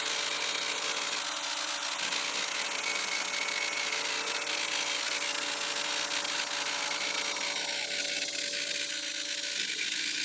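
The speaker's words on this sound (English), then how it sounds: "This bandsaw is super handy. It was just big enough for the job." A bandsaw cuts through a metal lawn mower part with a steady, continuous whine and grinding hiss that holds level throughout, close and fairly loud, with no talking.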